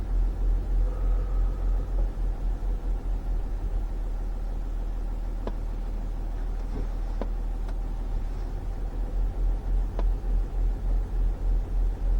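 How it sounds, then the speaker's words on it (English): An Amazon delivery van passes nearby on a road, a steady mid-pitched engine rumble that stays fairly constant throughout, with no one speaking. "Amazon van just passing me there."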